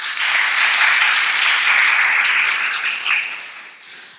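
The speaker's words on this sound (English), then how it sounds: "So please round of applause for Mr. Muman." Audience applause for a speaker at a public talk on caste legislation, a dense steady wash of clapping from a crowd that holds loud for about three seconds and then tapers away.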